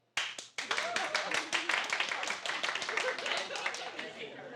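An audience at a comedy show claps together, a dense, sustained burst of applause that starts abruptly and carries on at a steady level for several seconds.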